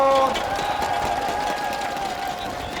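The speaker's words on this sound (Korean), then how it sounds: "송영길 대표 박수 좀 부탁드립니다, 여러분." Crowd applause and cheering at an outdoor Korean presidential campaign rally, a steady wash of clapping that stays loud and even throughout, with faint voices mixed in.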